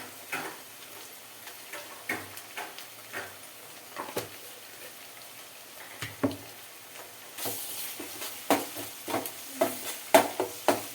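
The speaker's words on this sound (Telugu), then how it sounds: "సో చక్కగా ఉల్లిపాయలు అయితే వేగుతున్నాయి" Onions fry in a pan with ginger garlic paste, giving a soft steady sizzle broken by irregular scraping and tapping of a spoon against the pan, growing busier and louder toward the end.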